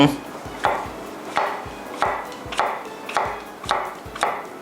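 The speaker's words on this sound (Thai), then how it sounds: "หั่นเป็นแบบ เล็กๆ ไปเลยฮะ" A knife chops mushrooms into small pieces on a cutting board, about seven even strokes in a brisk rhythm, close and clear.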